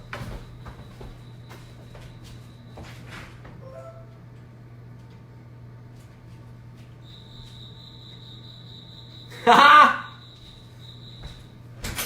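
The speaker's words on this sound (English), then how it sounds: "got crickets in my garage" Crickets in a garage give a thin, steady high trill that fades in partway through and carries on faintly, broken by a brief loud voice and a bump near the end.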